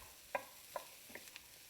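Chopped sweet potato hash with ham is tossed in a braiser, producing a few soft, quiet scraping and shuffling clicks spaced apart, faint against a near-silent background.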